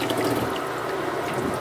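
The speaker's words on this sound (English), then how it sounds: "we're gonna show you how much water is getting into this manhole" Water pours into a manhole in a test vat as a steady, close rush of splashing, with no talking.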